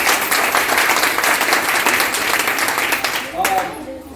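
Audience applause at a women's entrepreneurship training ceremony welcoming a guest of honour: dense, sustained clapping from a crowd, loud and continuous before tapering off near the end.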